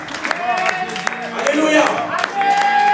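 A church congregation claps and cheers in a steady, lively wash of applause with scattered shouts and whoops, while a preacher keeps speaking over the crowd.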